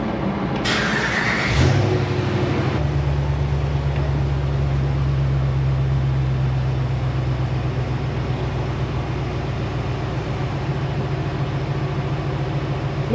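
Truck engine cranking briefly, catching, and settling into a steady close idle with a constant low hum that runs to the end, no talking.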